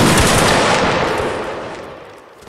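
Gunfire in a video game sounds as a loud, dense burst of rapid shots that rolls on and slowly fades as it tails off, with no speech.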